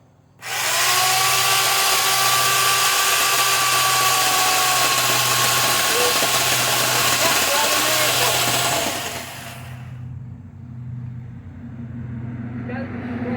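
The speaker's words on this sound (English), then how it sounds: "Of course you do. It's a chainsaw." A Worx electric chainsaw runs loud and steady at full speed for about nine seconds, then drops to a quieter whir as it winds down, with voices talking around it.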